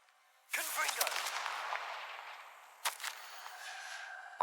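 In Hogwarts Legacy, a Confringo fire spell goes off as a sudden sharp blast followed by a crackling, fading burst, with a second smaller crack a few seconds later.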